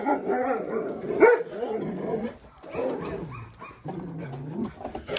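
Dogs barking at a rural home in Bulgaria, several sharp barks and yips scattered through the clip, fairly close, with bird calls mixed in.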